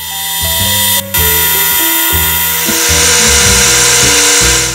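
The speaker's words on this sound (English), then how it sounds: "I had to remove about 2 millimeters of steel off of the staple guide rail in order to get them to fit. This was done using a metal lathe." A metal lathe cuts about 2 millimeters of steel from the guide rail of an 1895 Acme stapler, a loud, steady high-pitched whine heard up close, with a brief dip in the middle before it resumes.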